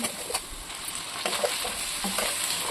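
Onion pieces, curry leaves and drumstick pieces frying in a pan with mustard seeds and cumin for Chittoor sambar, a dense steady sizzle with a few light stirring scrapes, close and without speech.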